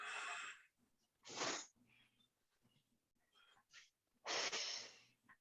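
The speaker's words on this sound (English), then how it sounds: "Breathing out through pursed lips." Long breaths pushed out through pursed lips during a guided breathing exercise come in a few strong, hissing bursts with quieter breathing between them, close and alone.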